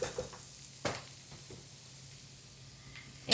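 A sweet potato and chickpea stew simmers and sizzles faintly in a pot, a soft low bubbling broken by a few clinks or stirring knocks near the start and end.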